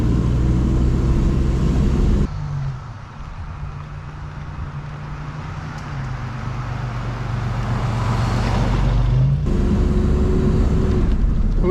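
A Toyota 4Runner runs after major engine repair, its steady engine drone dropping and shifting pitch as the transmission changes gear while it moves slowly in a driveway, continuous and close, with no talk.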